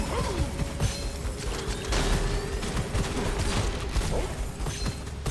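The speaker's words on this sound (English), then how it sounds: "things are shooting me now" Enemy gunfire in the video game Gunfire Reborn: dense clattering shots and mechanical creaks rattle on continuously over a droning hum, busy and fairly loud throughout with no voice.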